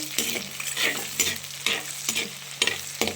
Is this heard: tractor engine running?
no